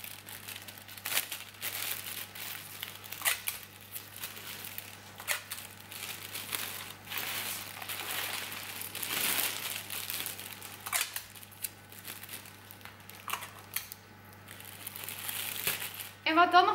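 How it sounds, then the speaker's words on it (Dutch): Plastic flower-wrapping foil crinkles and rustles in repeated bursts as it is folded around a bouquet and taped, with sharp crackles and short tearing sounds over a steady low hum. "Dan sla ik de folie naar buiten."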